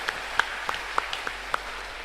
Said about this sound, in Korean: 한 번 더 하나님께 영광과 감사의 박수 힘차게 올려드립니다.